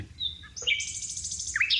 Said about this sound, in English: There's a bird on the lawn that I think must be a nightingale. He's singing away.